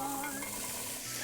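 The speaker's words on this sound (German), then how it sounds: "Die Zwiebel wird jetzt etwas in Rapsöl angedünstet und dann kommt das Gemüse dazu" Onions and vegetables sautéing in rapeseed oil in a pan, a soft, steady sizzle with faint stirring scrapes, brief and quiet, no voices.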